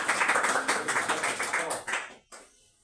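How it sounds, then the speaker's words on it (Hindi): Classroom students applaud a classmate during a maths lesson, with a quick burst of brisk, fairly loud clapping from a small group that ends abruptly after about two seconds. "तालियां हो जाए इसके लिए"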